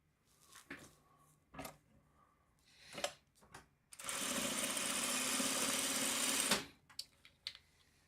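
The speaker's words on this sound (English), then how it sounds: "And I will sew this long seam now" A sewing machine stitches a long quilt seam in one steady, fairly loud whirring run lasting a few seconds, preceded and followed by soft clicks and handling of fabric.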